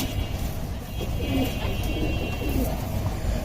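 Working line pigeons kept at home coo softly in low, repeated bursts over a steady background hum, with a voice talking at times.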